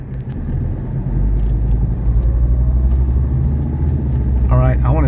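A 1983 Mercedes 300CD coupe drives on the road, turning toward an interstate, with a low steady engine and road rumble throughout and a voice speaking briefly near the end.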